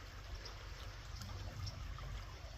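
Stream water running steadily at a winter gold prospecting site, a low continuous rush and trickle close by, with no voices.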